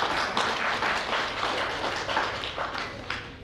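Sustained applause from a seated audience at a 75th birthday celebration in a hall, a dense wash of many hands clapping at moderate distance, fading slightly toward the end.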